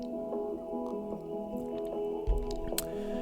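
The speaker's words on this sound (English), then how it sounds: "Let me take a sip of this sparkling water." A brief sip of sparkling water, a soft wet slurp and faint drip-like sounds near the end, quiet against a steady low background hum with no talking.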